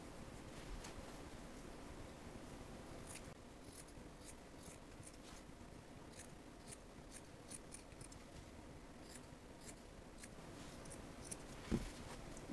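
Scissors cutting tank-top straps out of a cotton t-shirt, quiet repeated snipping and soft fabric rasps at close range against a faint hiss, with a small click near the end.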